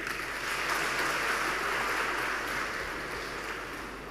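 Steady, dense applause from a conference audience at a national judicial conference session, a continuous broadband wash that holds at an even level for about four seconds before easing slightly.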